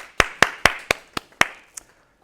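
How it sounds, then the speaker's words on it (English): A short burst of clapping, about seven sharp claps spaced evenly, fading slightly toward the end, like a small group or single person applauding. "A small round of applause."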